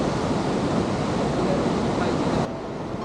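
A mountain stream rushing through a gorge, giving a broad, steady roar of water that stays loud and even, then drops to a quieter wash for the last half second.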